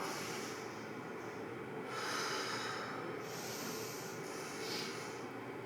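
A single full, slow inhale taken during a guided exercise, a soft airy breath sound that swells and fades across the clip with no talking.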